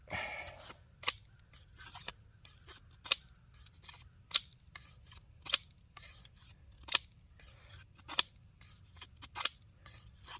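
Artisan Cutlery Wreckhart Kephart-style knife in AR-RPM9 powder steel cutting into dense wood and stripping bark, a steady series of sharp, crisp scraping snicks roughly once a second, close and quiet with no speech.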